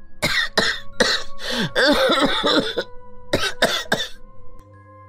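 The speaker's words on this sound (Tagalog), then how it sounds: "Baka lalo akong dalahitin ng ubo." Several harsh coughs come in quick bursts, close and loud: a pair of sharp coughs, a longer rattling run, then two more, with throat clearing between them.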